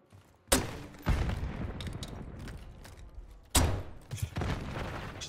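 In a Call of Duty match, a noob tube grenade launcher fires, with two sharp loud blasts a few seconds apart, each followed by rumbling explosion decay and game clatter.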